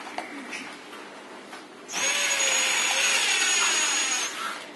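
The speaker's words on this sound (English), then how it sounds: "using 3-inch screws going into hopefully tires" A power drill drives 3-inch screws into an adobe-packed tire wall, with a loud steady whine starting partway through and running for over two seconds before easing off, after quieter handling noise.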